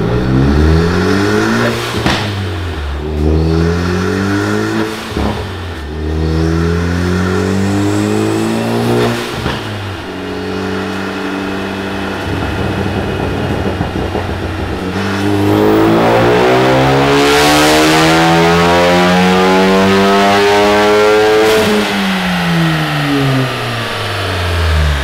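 A car fitted with a Cobb cold air intake and engine tune revs hard again and again, its loud, close engine note climbing and dropping in repeated sweeps, with one long, high-pitched rev near the end.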